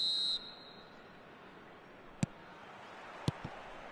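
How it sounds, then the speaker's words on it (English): A single short, shrill referee's whistle blast opens a football video game match. It drops into quiet stadium ambience broken by a couple of sharp clicks. "There's the whistle."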